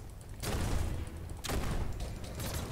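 Rapid gunfire bursts during a boss fight in the action game Biomutant, two dense, loud volleys of shots separated by a brief lull, with no talking.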